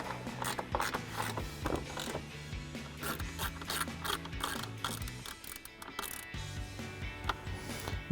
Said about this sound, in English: take my 10 millimeter on my ratchet here